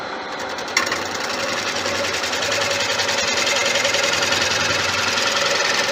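Wood lathe turning a very warped rough-turned bowl, cut with a bowl gouge: a steady, loud whirring drone with dense scraping texture that continues without a break from start to finish.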